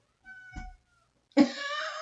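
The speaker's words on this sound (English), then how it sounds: "The cat's trying to get under the door." A cat trying to get under a door lets out two short meows, close and fairly clear, separated by a brief silence.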